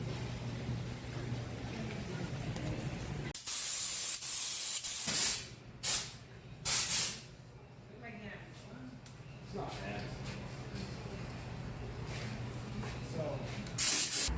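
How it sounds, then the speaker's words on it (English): A spray gun hisses out textured coating onto a Jeep Wrangler fender in several loud, close bursts of a few seconds each, with quieter hissing and shop noise between them. "Look at that coating. Now we're spraying."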